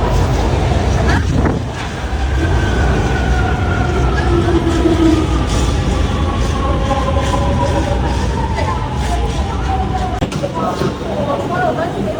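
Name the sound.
subway train at an above-ground station in China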